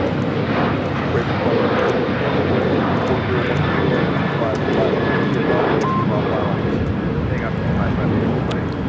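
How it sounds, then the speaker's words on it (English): A Southwest Airlines Boeing 737-800 takes off from LAX, its jet engines producing a loud, sustained roar that fills the scene, with a voice talking over the continuous noise. "3035 taking off to El Paso on the 737-800 in the Illinois 1 livery"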